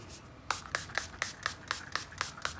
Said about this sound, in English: I will go ahead and set my face with the Milani Make It Last setting spray